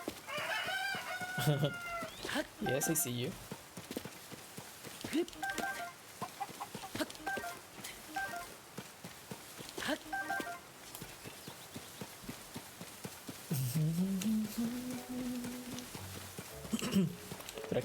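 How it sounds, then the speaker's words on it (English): Chickens cluck and a rooster crows in Zelda: Tears of the Kingdom, game sounds coming in short bursts over background music and hoof-like clopping, with someone briefly talking. "Wait, there's a chicken in here."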